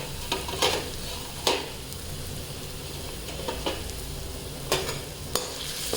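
Ginger and garlic paste fry in a pan for daal makhani, a soft continuous sizzle broken by a handful of sharp spoon scrapes and taps against the pan.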